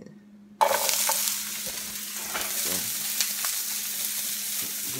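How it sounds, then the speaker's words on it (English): Vegetables sizzle and fry in a pan, a loud steady hiss that starts abruptly as they hit the hot surface and continues with faint stirring and clatter, with a brief word spoken at the start. "the vegetables can get to frying"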